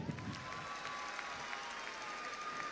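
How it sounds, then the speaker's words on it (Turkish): Applause from a crowd at a wedding-style gathering, a steady soft patter of many hands clapping at a distance, continuous for a few seconds with no voices over it. "Gelinciler bir alkışlasın görelim"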